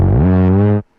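Serum synthesizer patch with no processing, a loud, buzzy sustained tone that glides down into its pitch and holds for under a second before cutting off abruptly.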